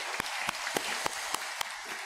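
Congregation applauding in a church service, a fairly quiet, even spread of clapping from many hands with a few sharper claps at regular intervals and no voices over it.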